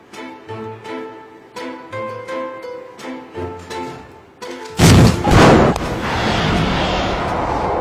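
A stage cannon fires in a human cannonball act: a sudden loud boom and blast burst after a run of rhythmic music, followed by a sustained roaring wash of noise.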